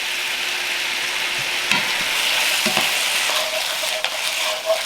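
Liver and garlic chives being stir-fried in a hot pan with chili oil, a steady loud sizzle and frying hiss throughout, broken by a few clanks and scrapes of the utensil stirring, with no voices.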